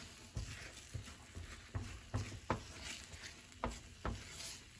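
Eggs are stirred with a utensil in a nonstick pan, a quiet sizzle beneath a series of soft scraping strokes at an irregular pace.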